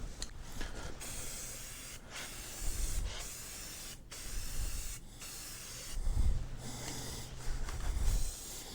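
An aerosol spray paint can hisses in a series of short and longer bursts with brief pauses between, close and fairly loud, painting parts of a 2003 Polaris Sportsman 700 ATV.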